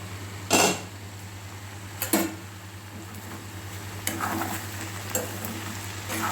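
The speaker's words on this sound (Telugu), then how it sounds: "మూత తీసి మధ్యలో కలబెట్టుకోవాలి లేకపోతే అడుగంటిపోద్ది" Several separate scrapes and clinks of a utensil against a pan of okra fry, spaced a second or two apart, over a steady low hum.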